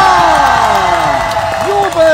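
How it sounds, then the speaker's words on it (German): Crowd at an outdoor fire show in a garden park in Saarbrücken cheers and whoops loudly, shouts rising over a continuous roar of voices close by. "Jubel!"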